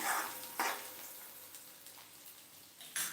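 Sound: sautéing in hot oil until reddish

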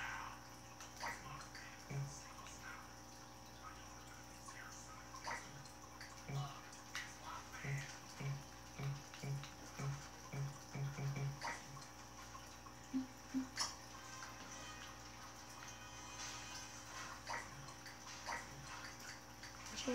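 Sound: Sims 3 bathtub filling with water, from a video game

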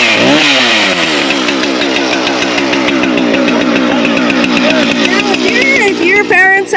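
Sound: chainsaw cutting a fallen tree

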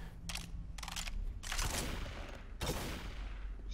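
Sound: gunfire shooting at a gnome in Left 4 Dead 2 video game

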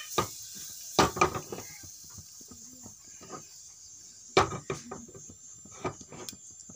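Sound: stirring turmeric and cumin seeds in a cooking pot

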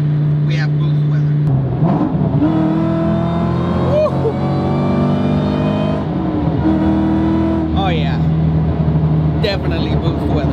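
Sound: Ford SVT Cobra Terminator car driving

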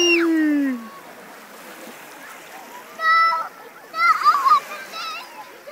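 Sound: sea waves splashing at Gullane beach

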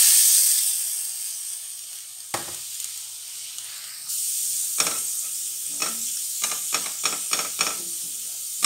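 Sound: ground spice paste being stir-fried in cooking oil

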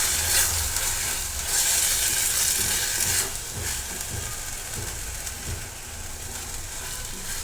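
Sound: homemade masala frying in oil for egg curry

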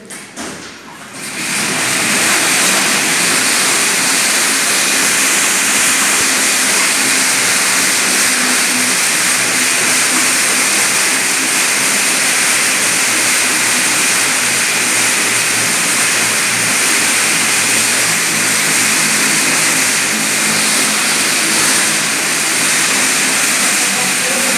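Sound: police dog running on a training treadmill

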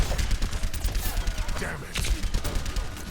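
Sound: gunfire from Soldier 76 in a video game

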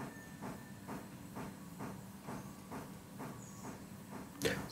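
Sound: train moving wagon in video game Railroader

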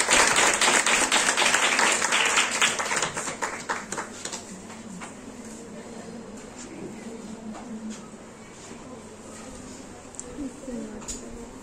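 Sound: audience applause welcoming a speaker

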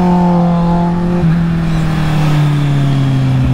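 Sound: motorcycle accelerating hard, Kawasaki Z800 or Yamaha R6

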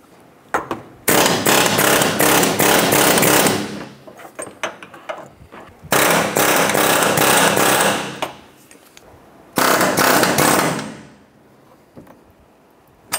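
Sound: air hammer chiseling metal

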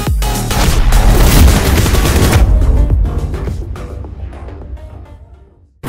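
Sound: gunshots in the video game PUBG Mobile

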